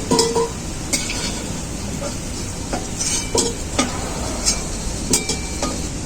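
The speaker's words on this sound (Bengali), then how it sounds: "আলুগুলোকে আমি লাল লাল করে ভেজে নিয়েছি তুলে নেবো" Potatoes frying in hot oil hiss with a steady sizzle, broken by sharp metallic scrapes and clinks of a spatula as they are stirred and lifted out of the pan.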